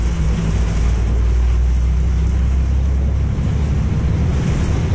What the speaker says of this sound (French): il pleut comme ça